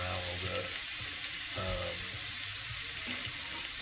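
Shrimp fry in a pan on a gas range, giving a steady, close, dense sizzle that continues throughout with faint stirring bumps underneath.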